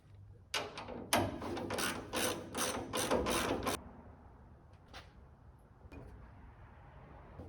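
A ratchet tightens engine mount bolts in a rapid burst of close, rhythmic clicking pulses, followed by quieter scattered mechanical taps and rubbing.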